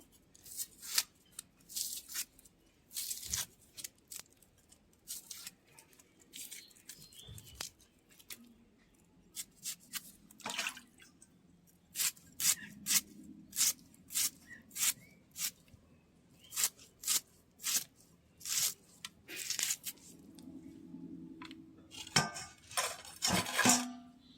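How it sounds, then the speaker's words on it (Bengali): Onions being peeled and cut with a knife in a village kitchen, a long run of sharp, irregular cutting clicks and scrapes close by and fairly quiet, with short pauses between strokes and no talking. "পেঁয়াজ খোসা ছাড়িয়ে পেঁয়াজ কেটে নেব।"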